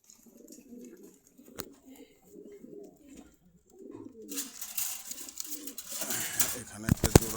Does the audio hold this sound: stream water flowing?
no